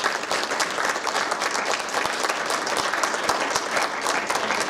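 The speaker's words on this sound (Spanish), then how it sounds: "le damos un aplauso." Sustained audience applause closing a museum lecture on colonial Mexican casta paintings, steady dense clapping throughout with no speech over it.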